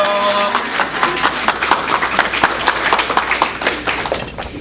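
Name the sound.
congregation applauding to welcome the pastor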